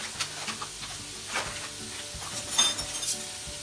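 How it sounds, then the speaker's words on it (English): Onions cook down in a hot pan with a soft sizzle, punctuated by a few stirring scrapes and light clinks of a utensil against the pan. "What we need to do with these onions is we need to cook them down."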